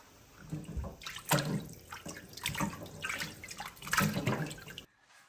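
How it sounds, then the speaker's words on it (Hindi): Water runs from a kitchen tap over raw mutton pieces being washed in a sink, splashing and gurgling in bursts that rise and fall, close up with no talking. "कुछ गोश्त हो गया है, साथ साथ में ये बाकी मैं धो रही हूँ।"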